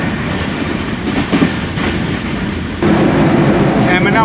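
The Jaffar Express passenger train brakes hard on a single line near Aminabad station, giving a loud, dense rolling roar that swells and grows harsher partway through, with a faint squeal near the end.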